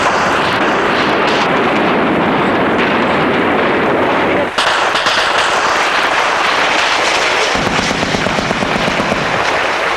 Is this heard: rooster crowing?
no